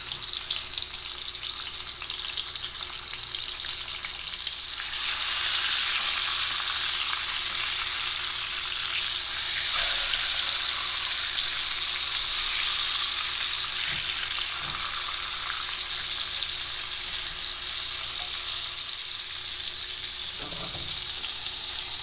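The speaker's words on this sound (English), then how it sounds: "now you want to sear these on both sides, a few minutes on each side" Pork pieces searing in hot oil in a pan for a slow-cooker gravy dish, a steady loud sizzle that swells when meat is added and holds without talk, with a few faint knocks.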